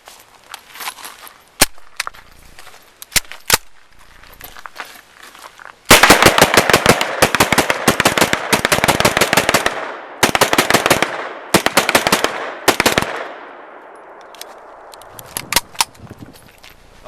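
An IMI Uzi SBR submachine gun fires a magazine, starting with a few scattered single shots, then loud close bursts of rapid automatic fire with short pauses before it stops and a faint ringing tail remains.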